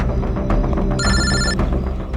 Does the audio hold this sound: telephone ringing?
yes